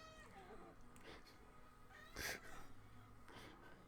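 A cat meows a few times, one cry standing out louder mid-clip, over a steady background hum with faint harmonics.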